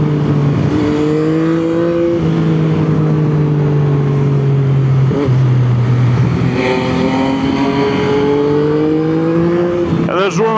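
Yamaha MT-09 motorcycle from 2021, its engine and exhaust revving loudly and steadily with rising and falling pitch sweeps, close up and continuous throughout.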